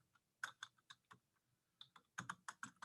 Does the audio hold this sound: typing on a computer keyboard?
yes